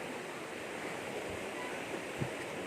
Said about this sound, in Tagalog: Grabe ang lakas talaga ng baha.